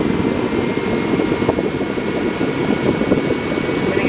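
A 12-volt fan runs on high speed, giving a steady, loud broadband whoosh of moving air with a faint motor whine, unchanging throughout with no voices.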